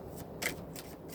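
A deck of tarot cards is shuffled close by in a few soft, rhythmic riffling bursts, quiet and alone with no talking.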